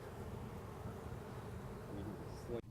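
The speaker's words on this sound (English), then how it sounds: "as you can see, they're very busy bees" Dense buzzing of many bees on a hive frame, steady and close, a continuous droning hum that cuts off abruptly at the end.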